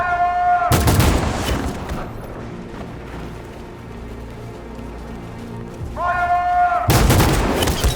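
Volley of gunfire after an order to fire, two loud sharp bursts of shots separated by several seconds of rumbling echo and low background.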